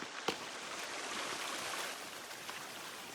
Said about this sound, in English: Running water is always a good sign.